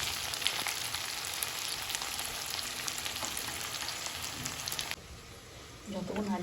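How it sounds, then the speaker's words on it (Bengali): Potatoes and onions fry in hot oil, a steady dense sizzle with stirring scrapes, then the sizzle drops sharply near the end as a voice comes in briefly over the quieter frying. "আলুটা দিয়ে সেই পেঁয়াজের সাথে ভালো করে একটু নাড়াচাড়া করতে হবে।"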